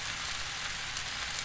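Eggs and snow peas frying in a pan, a soft, even sizzle that stays steady throughout, faint and alone.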